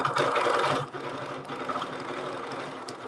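A sewing machine quilts a 2.5 inch circle along a ruler, starting with a loud close burst of rapid stitching and then carrying on as a softer steady whir.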